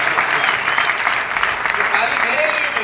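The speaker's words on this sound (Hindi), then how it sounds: "ये तालियां मेरे अचीवमेंट के लिए बज रहा है" Applause from an audience at a marketing company's leaders' gathering, loud, dense and sustained clapping heard close, with a voice faintly present beneath it.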